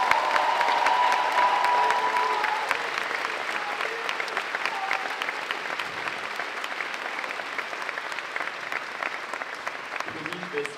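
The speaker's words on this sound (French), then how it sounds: "je propose que les applaudissements très fort." A theatre audience applauds a musical's volunteer teams with sustained, dense clapping that starts strong and gradually eases, with faint voices mixed in toward the end.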